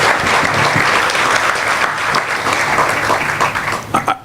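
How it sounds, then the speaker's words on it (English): Audience applause at the Anchor Place grand opening ceremony in Long Beach, a dense, loud wash of many hands clapping steadily that thins into a few scattered claps at the end. "let's give him a big round of applause again"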